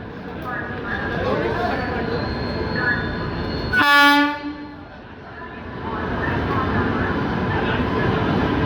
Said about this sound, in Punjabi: ਅਮਰਪਾਲੀ ਟ੍ਰੇਨ ਆ ਗਈ ਆ